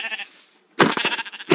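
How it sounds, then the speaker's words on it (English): A Minecraft sheep bleats in the game, one faint tone at the start, then after a gap a louder burst of sounds and another at the end. "there's another sheep."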